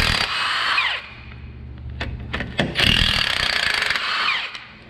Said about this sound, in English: now we're going to remove the nuts for the U-bolts on the driver's side and passenger side